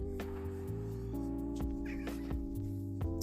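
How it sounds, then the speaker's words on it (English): A cat meows faintly against a steady background of humming tones and low music, the calls brief and distant. "start to hear the kitty cat soon"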